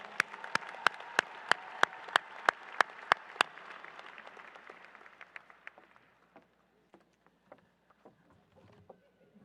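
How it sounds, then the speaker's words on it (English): Audience applause at a 2025 commencement ceremony for top academic achievers, a broad wash of clapping with sharp, regular louder claps up front, thinning out and fading to scattered claps by the end. "Please join us in one more rousing round of applause for these highest academic achievers"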